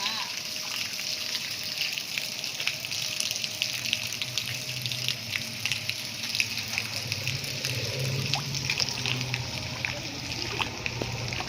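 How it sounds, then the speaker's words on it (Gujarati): Rain that has fallen overnight and into the morning keeps water running and splashing steadily into a gutter and drain in a flooded residential lane near a railway station road, a continuous rushing flow with scattered spattering drips. "કાલ રાતનો અને આજ વહેલી સવારનો વરસાદ સતત ચાલુ છે"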